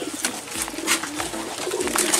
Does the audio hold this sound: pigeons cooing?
yes